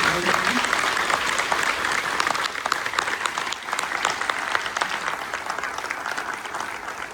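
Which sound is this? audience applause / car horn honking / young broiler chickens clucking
audience applause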